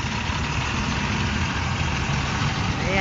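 Idling car and truck engines rumble in heavy traffic near the Muntinlupa municipal hall, a steady close drone of low engine noise with no talk.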